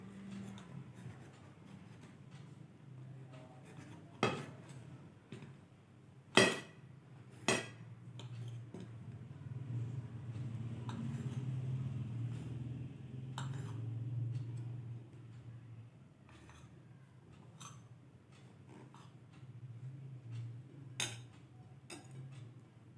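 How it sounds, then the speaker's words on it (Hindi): A knife cuts bread slices into small pieces, giving sparse, sharp taps and clicks against a board, separated by quiet gaps over a faint background hum. "अब इनके मैं छोटे छोटे पीसीस काट लेती हूँ इस तरह से।"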